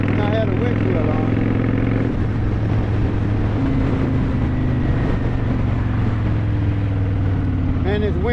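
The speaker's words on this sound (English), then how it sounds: "And this wind is so loud" Heavy, steady wind roar while riding a motorcycle without a windshield at about 40 mph, constant and loud throughout, with the engine buried underneath and a voice talking over it.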